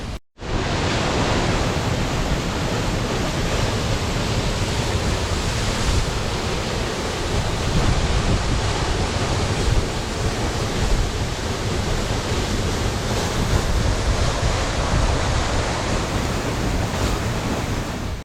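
A winter waterfall at Dry Creek Falls roars as a dense, unbroken rush of falling water and spray, loud and close, holding steady throughout without any voices.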